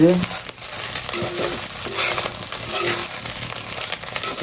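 Leftover khichuri sizzles and crackles steadily in a hot pan as it is reheated at home, with a few soft scrapes and clinks of a utensil against the metal.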